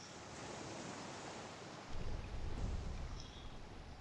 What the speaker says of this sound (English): one thing about EverQuest is the water is a little on the loud side